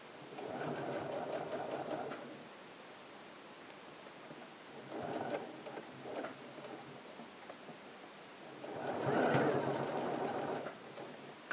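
A sewing machine runs in three bursts while stitching a garment, with the joining of rib-knit cuff edges noted: a steady mechanical whir with rapid ticking, separated by short pauses. It is close and moderately loud, and no one speaks.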